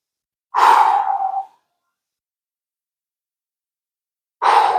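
A long, breathy exhale during a standing rotational hip mobility exercise, lasting about a second, then silence before a second breath begins at the very end; close and clear, with no talking.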